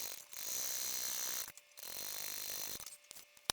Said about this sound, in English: I am just going to stitch across about 1/4 of an inch from the bottom